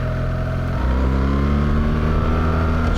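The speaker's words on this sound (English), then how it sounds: "So I'm staying in second here. So I've got much more of a push." A BMW R1300GS motorcycle engine-brakes in second gear, its loud steady drone dropping in pitch and then evening out close to the microphone, with no speech.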